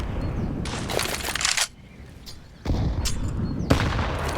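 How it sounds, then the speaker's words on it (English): Grenade blasts in a Counter-Strike: Global Offensive match on Inferno at IEM Cologne 2021, two loud roaring bursts of explosive noise separated by a brief lull, with sharp cracks of gunfire within them. "Great nade onto Exit's position"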